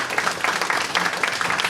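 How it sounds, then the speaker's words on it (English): Audience clapping welcomes Dr. Edwin Mendoza to the stage at a community family event in El Monte, a short burst of dense, close applause with no voices over it. "a round of applause and welcome for Dr."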